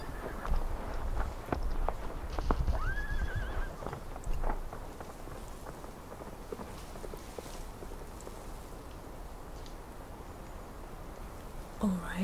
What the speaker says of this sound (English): I think our coachman has just gone away with the horses.